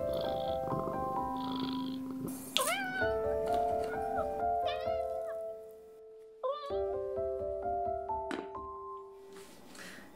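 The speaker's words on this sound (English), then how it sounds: "It's just a cat." A house cat meows repeatedly in rising, wavering cries with a low purr running underneath, close and clear with quiet pauses between calls.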